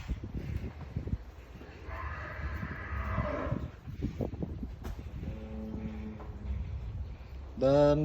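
Big, heavily built beef cattle moo at a farm in Bandung, with several long, low calls that rise and fall, the loudest one coming right at the end, set against steady background noise and faint rustling.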